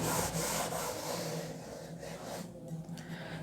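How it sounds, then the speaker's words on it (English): Hand rubbing the surface of a sphere, a soft continuous scratchy friction sound close by, fading slightly toward the end. "If I rub this surface"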